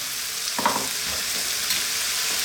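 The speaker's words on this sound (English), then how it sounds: "we're going to add that 1 can of tomatoes in there" A can of tomatoes going into a pan of frying mushroom and meat sauce for shepherd's pie, with a steady hiss of sizzling and a brief splash and stirring thud early on, alone and close.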